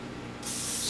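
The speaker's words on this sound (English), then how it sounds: "now we're gonna spray the pan." Cooking spray hisses onto a baking pan in one short, steady burst that begins partway through and continues to the end, close and loud.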